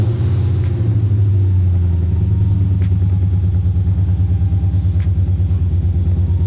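An E39 BMW M5 V8 running through MagnaFlow straight-through mufflers, with a deep, steady idle rumble that pulses evenly. The note stays close and loud from start to finish, and no voices are heard.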